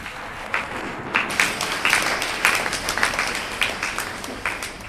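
Audience applause at a church gathering in Winneba, Ghana, rising after a quiet start into steady, moderately loud clapping that carries on through the rest of the stretch.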